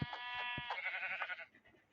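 A Minecraft sheep bleats in a wavering, nasal call that trails off, with soft tapping steps underneath, as in a game's sound effects.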